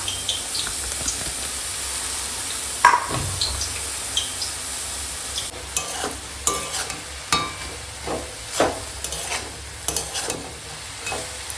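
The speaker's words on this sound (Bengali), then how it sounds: "এখন ফ্যাঁসা করে শাকটা ভালো করে আমি নেড়ে নিচ্ছি উপর নিচ করে" Spinach greens with eggplant and spring onion are stirred in a pan over sizzling heat, with a steady frying hiss and repeated scraping strokes of the spoon, close and clear with no talk.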